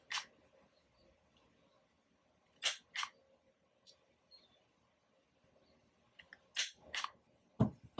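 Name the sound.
rounding sticker edges with Kotamaru Pro corner rounder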